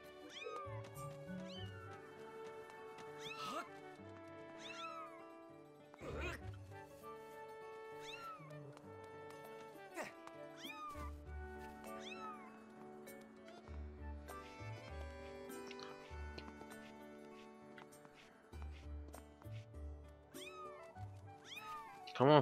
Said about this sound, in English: Come on, follow me, stupid cat.